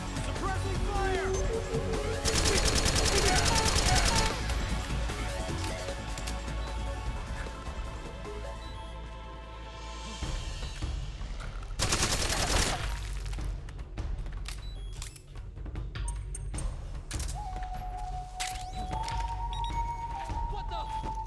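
Gunfire in the combat video game Metal Gear Solid 4: Guns of the Patriots comes as two dense, loud sustained bursts amid constant battlefield din, with a brief tonal signal toward the end.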